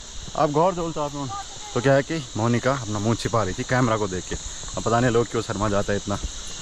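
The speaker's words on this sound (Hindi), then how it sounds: "तो ये एक इंसेक्ट होता है, इसका नाम है नीनारू, और ये ऐसी आवाज़ करता है।" A chirping insect called neenaru buzzes in a steady, high-pitched drone throughout, running under someone talking nearby in a village setting.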